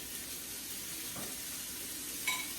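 Steady, broadband frying sizzle from food on a hot griddle for a breakfast wrap, continuous and fairly loud throughout, with a brief faint clink near the end and no talking.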